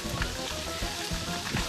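Fish frying in a black pan, with a steady close sizzle and spattering crackles and no talking.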